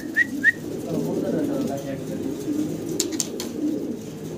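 Large Mundian fancy pigeons coo softly in a low, murmuring rumble, with a couple of brief whistle-like calls early on and some background noise around them.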